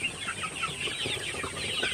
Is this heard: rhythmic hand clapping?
no